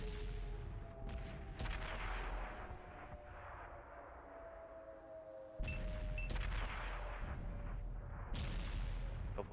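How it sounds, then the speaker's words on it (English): Distant gunfire and heavy booms crackle through a video game battle near a church in a World War II Normandy setting, with sharp shots breaking out over a continuous low rumble of combat. "Couple of shots going into Anarchy and Spaniel as they try to cross the top side here of the church."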